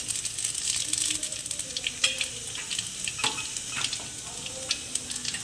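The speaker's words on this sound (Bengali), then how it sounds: "এবারে পাঁচফোড়ন দিয়ে দিব" Panch phoron spices sizzle in hot oil with dried red chillies and bay leaves, the start of a mango chutney; a steady close frying hiss runs throughout with a few small pops and stirring scrapes and no talking.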